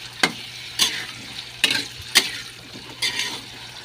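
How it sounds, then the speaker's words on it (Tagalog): Potato pieces frying in oil for afritada, giving a soft steady sizzle broken by about six sharp spatula scrapes and clinks against the pan, close by, with no talking. "iprito ko muna yung patatas para hindi nalalabog pag niluto na sa apritada"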